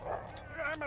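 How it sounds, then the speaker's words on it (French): In the Mad Max video game, a dog with its paw caught in a trap gives a short high whimper and yelp, brief and fairly faint, with a low steady background hum. "le chien, il s'est pris la patte dans un piège"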